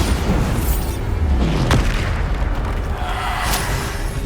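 Bombarda spell explosions in the Hogwarts Legacy video game, deep booming blasts amid a dense, loud battle mix with whooshing spell effects and sharp cracks.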